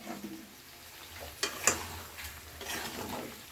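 Turmeric powder and a spice mix are stirred and sautéed in a pan for an egg and potato curry, giving a faint, steady sizzle with soft scraping strokes and a couple of brief clinks of the spoon.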